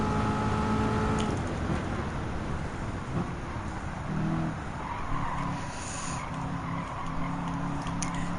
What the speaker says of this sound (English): the second generation Corvette Z06 race car from the 1960s